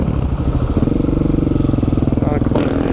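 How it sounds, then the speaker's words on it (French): A Husqvarna 450 FE supermoto motorcycle runs steadily nearby with a rough, pulsing single-cylinder thrum that swells slightly toward the end. "Qu'est-ce que c'est ces motos là?"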